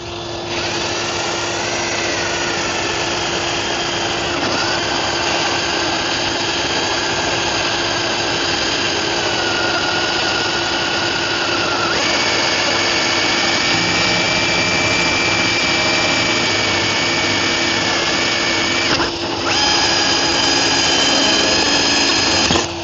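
A power drill spins a 1.125-inch hole saw through a boat gunnel, a loud continuous high-pitched whine with a steady tone that shifts slightly in pitch as the cut progresses, close and alone.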